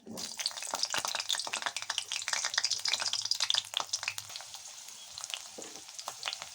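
A large bitter gourd frying in hot oil, a busy crackling sizzle with rapid popping that is loudest early on, then eases to a quieter fry with occasional scrapes of stirring; no talking.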